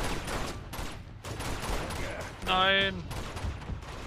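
Gunfire in the video game Uncharted 2 rattles in fast bursts of shots at moderate level, with someone shouting in alarm and a sharp tonal game cue partway through.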